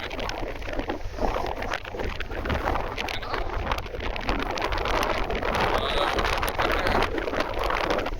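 Strong gusting wind from Storm Ciaran buffets an outdoor microphone in Jersey, a loud continuous roar with rumbling low-end bursts throughout, with no clear talk.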